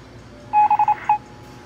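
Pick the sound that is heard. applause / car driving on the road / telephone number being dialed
telephone number being dialed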